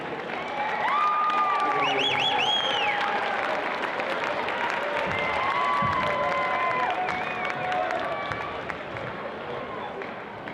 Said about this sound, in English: Fans, if we could give a nice applause for our 2022-23 All-State.